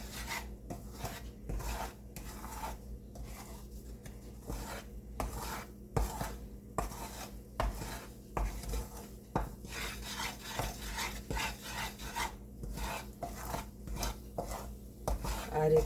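A spoon or spatula stirs bajra flour roasting in a pan for sukhadi, making steady, repeated rasping scrapes against the metal. The strokes come in an even rhythm, fairly soft and close, with no talking.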